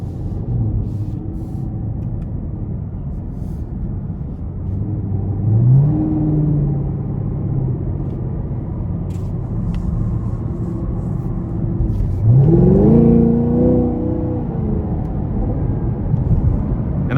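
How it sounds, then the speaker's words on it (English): A 2021 Chevrolet Camaro 2SS coupe with a dual-mode exhaust in track mode gives a deep, loud rumble that climbs in pitch twice as it accelerates through the gears, heard from inside the car. "It's a beast of an exhaust. It's so strong, so aggressive."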